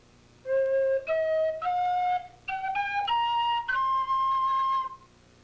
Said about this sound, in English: On flute-style instruments, a blues scale would sound like this.